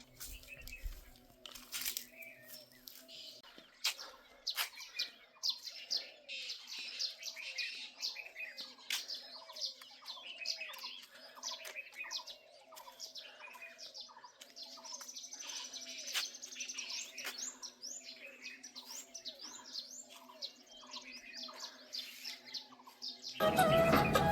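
Birds chirp in a mountain village on a morning, with many quick tweets and calls repeating steadily over a quiet background. A few faint crinkling handling noises occur, and a loud burst comes at the very end.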